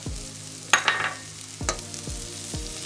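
Celery and onions stir-fried in a pan with garlic and ginger for a healthy veggie stir fry, a close, crackling sizzle with several rhythmic low knocks as the pan is tossed.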